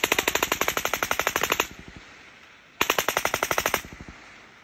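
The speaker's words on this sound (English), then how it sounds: "I think we got cover fire, boys." Machine gun cover fire in combat: two rapid bursts of automatic gunfire, each about one to one and a half seconds of evenly spaced, loud, close shots, separated by a short pause with a lingering echo.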